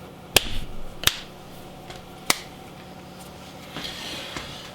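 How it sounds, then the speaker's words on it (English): Sharp single hand claps ring out in a quiet kitchen, three crisp, separate strikes early on, then the room goes quiet apart from faint background noise. "Do a clap, all right."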